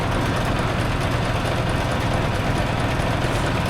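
A tractor engine idles steadily and loudly throughout, a continuous low rumble with mechanical vibration and no talk, while the tractor is used for the last sowing of the year and for filling a seed drill.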